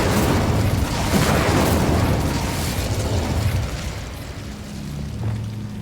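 A Confringo spell blasts in Hogwarts Legacy with a loud, broad explosive boom that rumbles and slowly fades over several seconds, with low game ambience underneath.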